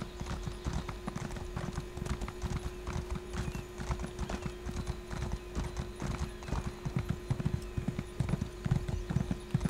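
In the video game The Elder Scrolls Online, horse hooves gallop in a fast, steady clip-clop rhythm, close and continuous, with a faint steady hum underneath.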